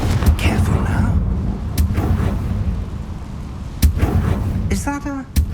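A Confringo blasting spell goes off in Hogwarts Legacy, giving sharp, loud blasts in a short series, mixed with game ambience and voices.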